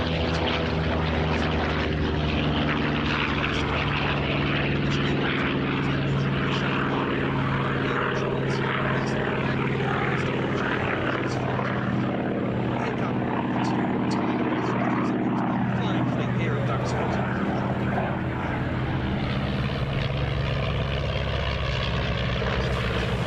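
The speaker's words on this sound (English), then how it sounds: "there goes the Bearcat as the third of those big fighters getting airborne" A Grumman Bearcat propeller fighter takes off at an airshow at Duxford, its loud, steady piston-engine roar filling the whole stretch with a sweeping pitch as it climbs away.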